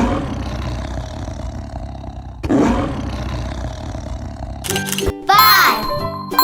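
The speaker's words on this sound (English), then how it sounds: "What sound do you think the tiger makes?" Tiger roars, deep and loud, in a few drawn-out growling bursts with an echoing, cartoon-like effect, alongside someone speaking and a tinkling sound effect.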